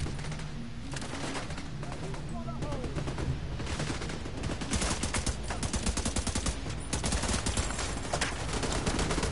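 In The Division 2, heavy machine gun fire rattles in dense, continuous bursts throughout, loud and close, mixed with game noise and some speech.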